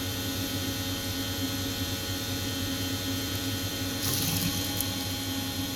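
Condensate water from a rooftop HVAC unit drains from its pipe in a steady, hissing trickle, with a constant mechanical hum around it outdoors on a roof.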